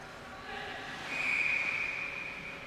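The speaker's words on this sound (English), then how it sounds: "We got a whistle." Referee's whistle at an amateur ice hockey tournament game in an arena, one sustained shrill blast rising over crowd and rink noise.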